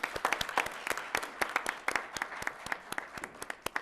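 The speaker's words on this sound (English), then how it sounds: "We applaud and appreciate you" A small audience at a city arts and culture award ceremony claps for an award winner, with sparse, distinct hand claps in an uneven rhythm for a few seconds.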